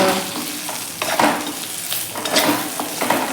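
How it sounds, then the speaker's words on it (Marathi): Eggplant pieces being stirred and fried in a masala coating in a pan, loud close sizzling broken by repeated scraping and clattering strokes of a spatula. "आता ही मसाल्यामध्ये वांगी व्यवस्थित अशी आपल्याला कोट करून घ्यायची आहे"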